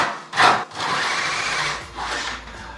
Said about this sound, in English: So that's the only one I'm drilling this size.